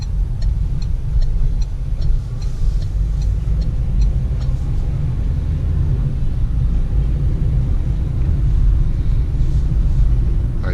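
A Peugeot Partner with an automatic gearbox drives along in a steady low cabin rumble of engine and road noise, even and continuous, with faint ticking clicks above it.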